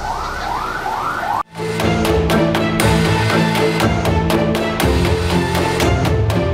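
Ambulance sirens wail during an emergency evacuation of sick schoolchildren, a loud, continuous warbling siren with rapid repeated pulses, several vehicles close by, opening with a brief rising wail before a sharp cut into the steady alarm.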